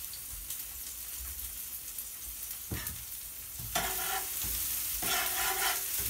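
Sweet peppers sizzle steadily in a frying pan while a utensil stirs them, with a few sharper scraping bursts against the pan in the later part.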